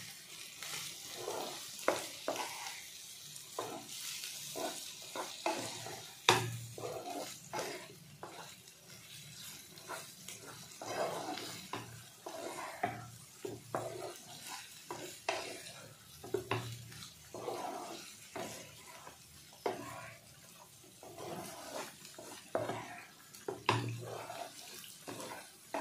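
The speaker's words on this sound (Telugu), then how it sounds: "ఇప్పుడు కొంచెం ఒకసారి మనం కలిపేద్దాం." A spoon stirs chicken pickle with turmeric and coriander powder in a pan, giving repeated scraping and sizzling strokes in an irregular rhythm, close and moderately loud, with no talking.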